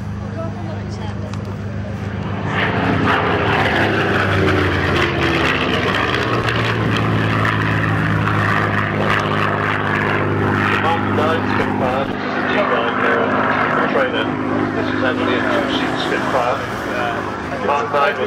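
A Spitfire propeller aircraft roars loud and close for the whole stretch at a flying display, its engine droning steadily, with a voice speaking over the noise.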